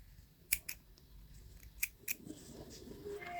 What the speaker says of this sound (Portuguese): E agora é só cortar.